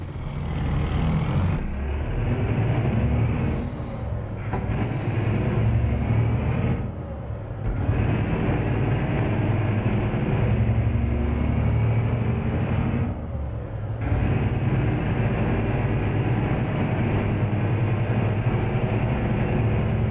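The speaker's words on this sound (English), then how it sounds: "God, this F-Max is so noisy compared to standard ETS2 trucks" Ford F-Max truck engine in Euro Truck Simulator 2, a loud steady low diesel drone and rumble held throughout, with a few brief dips like gear changes.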